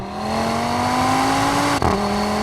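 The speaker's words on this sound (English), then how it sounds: "It's got that Chewbacca kind of half V10 sound." A 2019 Audi TT RS five-cylinder engine idling with a warbling, slightly rising drone through a sporty exhaust, with a brief dip and blip near the end.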